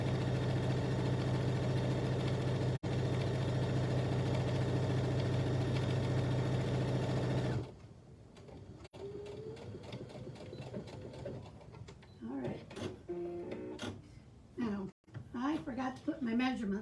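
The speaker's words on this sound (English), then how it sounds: "now I'm going to just sew down both edges of that handle" A sewing machine stitches down both edges of a mesh beach bag handle, running as a loud steady whir for about eight seconds, then stopping as a person talks over softer handling noises.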